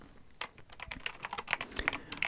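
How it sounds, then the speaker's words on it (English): Rapid clicking of a computer keyboard being typed on, close up and steady, with no voices. "Hopefully you find the keyboard sounds relaxing."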